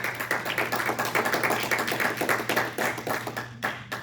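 A church congregation claps together during a sermon, a dense run of sharp, fast hand claps that stays loud and steady before thinning out near the end.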